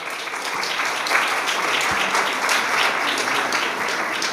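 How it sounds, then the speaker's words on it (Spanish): Audience applause for a university rector at an innovation event, a steady, dense wash of many hands clapping that holds evenly for several seconds with no speech over it. "a Cristian del Campo, le pido un aplauso por favor, nuestro rector"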